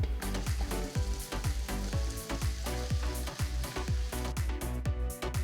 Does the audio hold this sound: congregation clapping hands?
no